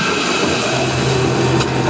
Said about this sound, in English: Can you hear that? That's the sound of the gigantic rollers directly beneath me.